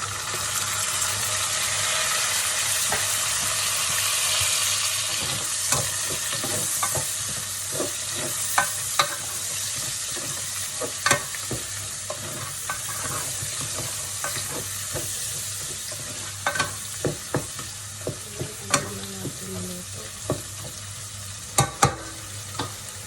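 Tomatoes sizzle and fry in a pan for ginisang monggo with pork, a steady close hiss with scattered clicks and stirring scrapes throughout, no voices.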